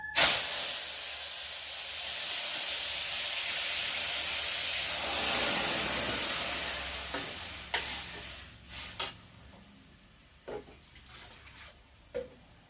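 Food dropped into hot tempering oil in a home kitchen, a loud burst of sizzle that swells for several seconds, then fades into quieter crackles and a few sharp clinks of stirring.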